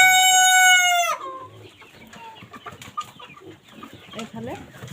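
Young chickens in a netted coop, a long loud crow at the start, then scattered soft clucks and chirps from the small birds close by.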